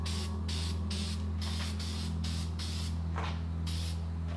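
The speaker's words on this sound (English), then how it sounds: "gave them a good thick coat of Eastwood's Rust Encapsulator spray paint" Eastwood Rust Encapsulator spray paint hisses from an aerosol can in repeated bursts onto Pontiac Fiero front suspension parts, loud close sprays separated by brief gaps over a steady low hum, no talk.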